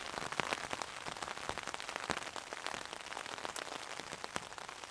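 Rain patters densely and steadily on a tarp shelter in woodland during a solo wild camp, with irregular close drops tapping sharply across a continuous wash.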